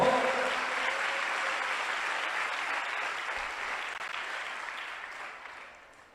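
A church congregation claps together in a sustained, dense burst of applause that holds steady and then gradually fades out toward the end, no voices heard.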